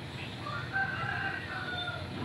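A rooster crows in the distance, one drawn-out call over steady background noise.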